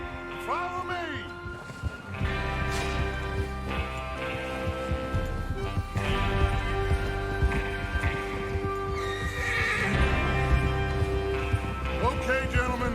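Horses whinny and hooves clip-clop in the Red Dead Redemption 2 video game, heard up close over a steady music score, with talking mixed in.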